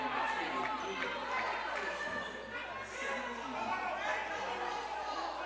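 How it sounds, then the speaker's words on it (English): Crowd at a women's college basketball game, West Florida at West Alabama, murmuring and grumbling after a foul call, a steady indoor rumble of voices running beneath a commentator's talk. "the crowd does not like that call"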